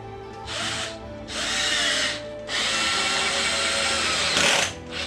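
A power drill drives a screw into wood in three bursts, close and loud, with its motor whine rising and stopping in short pauses between runs.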